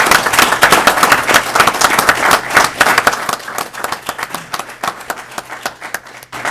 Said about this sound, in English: And just give them a clap.